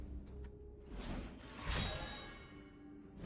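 A shatter card effect from the Legends of Runeterra video game plays as a rising whoosh that swells into a bright crystalline burst of breaking ice, then fades out.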